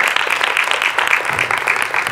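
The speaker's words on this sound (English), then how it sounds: "Give the gentleman a round of applause." Brief applause for a gentleman at a fitness-oriented book signing event, a small group clapping quickly and fairly close, dense and bright for a couple of seconds.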